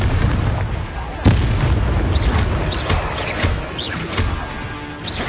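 Magical explosion spells going off in Hogwarts Legacy, a sharp heavy blast followed by a dense run of booms, crackles and whooshing effects, loud and continuous with a background score.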